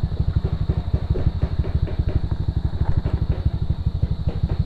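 A motorcycle fitted with a T4S exhaust pipe idles up close, giving a steady, rapid, low-pitched thumping putter with a slight clatter.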